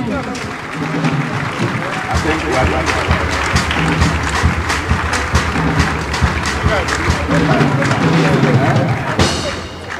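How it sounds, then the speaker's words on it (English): Audience applause at a lecture event, steady dense clapping from a crowd filling the whole stretch, loud and continuous with a brief lift near the end. "Another round of applause, please."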